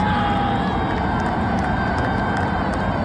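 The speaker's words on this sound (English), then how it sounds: "Everyone's cheering by that sound." Hockey arena crowd cheering at a Winnipeg Jets game, heard as a steady dense roar with scattered whoops and shouts, continuous and loud throughout as if played back from a recording.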